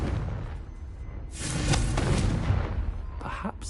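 A Confringo fire spell bursts in Hogwarts Legacy, a broad, rumbling blast that swells and lingers for about two seconds before a brief crackling tail, loud and near.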